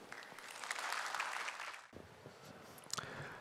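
Audience at a banking IT presentation applauds to welcome a speaker, a soft, distant patter of many hands that swells and then fades out within about two seconds, followed by quiet room noise and light shuffling.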